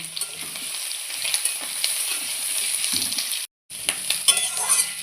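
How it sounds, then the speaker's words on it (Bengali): Potato and onion frying together in a pan, an even crackling sizzle with occasional light clinks of a utensil being stirred, briefly cut to silence for a moment before resuming. "দিয়ে পেঁয়াজ আর আলু আবার ভালো করে ভেজে নেব"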